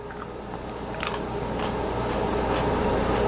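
Crunchy homemade sweet pickle cucumber slice being bitten and chewed up close, a few crisp crunches and wet chewing sounds over steady background hum.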